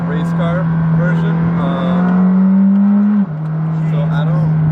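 A McLaren 620R sports car engine while driving: a steady, loud droning engine note that rises slightly in pitch, then drops abruptly as the gear changes, heard from inside the car while someone talks over it.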